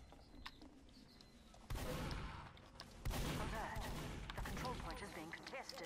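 A sentry turret fires in the Team Fortress 2 video game, bursts of rapid gunfire starting abruptly and continuing loud and close, overlapping in dense bursts with in-game noise.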